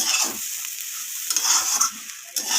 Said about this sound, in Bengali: তো দেখুন ঘিটা দিয়ে এইভাবে সুজির সাথে আবারও মিশিয়ে নিচ্ছি